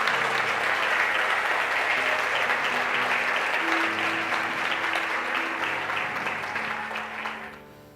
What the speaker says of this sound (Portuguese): Pode ser mais forte essas palmas.